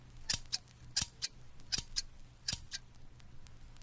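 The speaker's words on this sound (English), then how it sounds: "It was a pair of scissors." A pair of scissors snipping, heard as a series of about eight sharp, crisp metallic cuts at an uneven rhythm, close and clear against a quiet background, with no voices.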